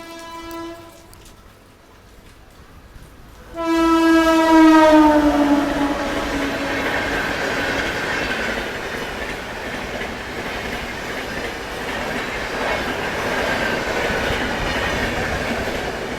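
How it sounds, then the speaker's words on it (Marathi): A train pulling in at Wadi junction station, a loud horn blast followed by a steady rumble and clatter of wagons rolling past nearby. "आता ट्रेन आली आहे कुठली तरी"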